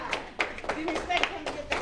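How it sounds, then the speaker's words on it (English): Several sharp hand claps land in an irregular rhythm while people talk over them. "Now, okay, you clap."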